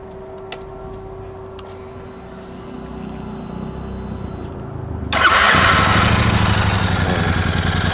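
A Royal Enfield Super Meteor 650 on its stock exhaust clicks and whirs through the starter, then fires and settles into a loud, close, rumbling idle.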